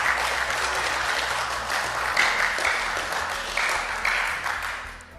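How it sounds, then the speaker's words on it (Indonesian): Applause at an Indonesian parliamentary commission hearing (Komisi III DPR RI) after approval of Supreme Court justice candidates: steady clapping from a room of people, moderately loud and continuous for several seconds. "Pimpinan tepuk tangan dulu dong."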